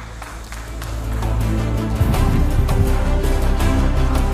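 Applause and crowd noise at a live 2024 Indonesian vice-presidential debate, a broad clapping roar that grows louder and stays full and continuous.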